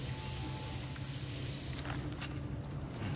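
Steady hiss of container repair spray from Death Stranding 2, a continuous broadband spray holding level for about three seconds, with a few faint clicks near the end.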